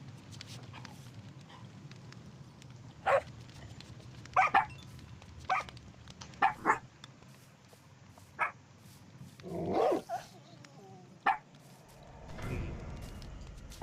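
Dogs in a Minecraft survival game let out short scattered barks and yips, each one brief and isolated over a low background hum, with a longer whimpering cluster near the end.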